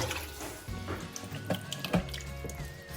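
Water poured into a cooking pot while making beef bourguignon, a quiet steady splashing and trickling with small sizzling crackles, close by.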